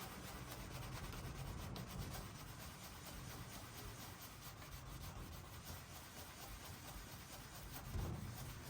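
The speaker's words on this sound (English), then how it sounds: "I'll just rub a little bit extra just to make sure every little spot's nice" An antique mirror is rubbed by hand to lift grime, giving a steady scratchy friction noise that continues close and even throughout with no talking.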